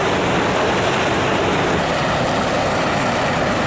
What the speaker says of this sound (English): More exciting is the speed at which the water hits the rocky ground, making a rattling sound.